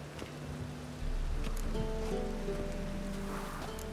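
Rain falls steadily in The Witcher 3 as a soft hiss of drops with a low wash underneath, while faint tonal game ambience rises partway through.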